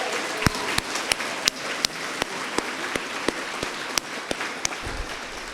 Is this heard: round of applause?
yes